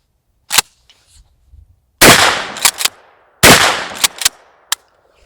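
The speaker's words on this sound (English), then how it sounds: "we'll fire a couple of shots, and you know, you're familiar with these, but anyhow, release the action down here" Pump-action shotgun fired outdoors: two loud, sharp blasts a second and a half apart, each followed by quick clacks of the action being worked, with lighter mechanical clicks before the first shot.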